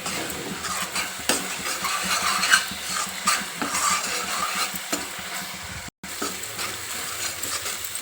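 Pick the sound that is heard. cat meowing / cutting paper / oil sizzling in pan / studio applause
oil sizzling in pan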